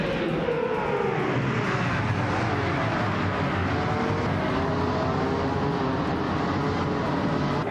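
Several 2018 Chevrolet IndyCar engines roar together at a race start at Circuit of the Americas in a racing video game, a dense, continuous engine drone with overlapping pitch sweeps, steady and loud throughout.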